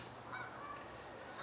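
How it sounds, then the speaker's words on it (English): Faint geese honking in the distance outdoors, a few thin calls rising over a steady background hush. "Now I can hear geese."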